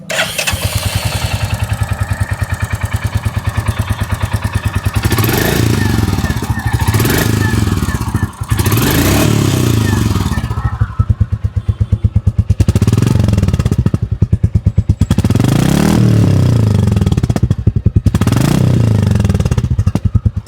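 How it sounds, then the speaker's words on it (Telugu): Royal Enfield 350cc motorcycle engine running loud and close, its thumping exhaust note rising in several throttle blips and revs over a steady idle. "ఒకసారి ఎగ్జాస్ట్ నోట్ వినండి."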